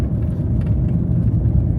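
A Mini R50 fitted with a short ratio gearbox drives along at about 70 km/h. A steady, close, low engine and road rumble fills the cabin without a break.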